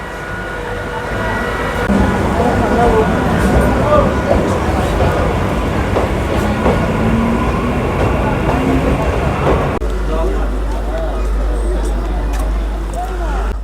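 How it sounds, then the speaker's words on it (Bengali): A Barasat local train pulls into a station around midday, its loud, steady rumble filling the platform while voices sound in the background. "ট্রেন চলে এসেছে এই ঢুকছে বারাসাত লোকাল"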